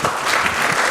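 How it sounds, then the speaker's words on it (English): An audience at a conference on digital infrastructure in Africa bursts into applause, a brief, dense burst of steady clapping heard up close with no pauses. "A round of applause for my partner."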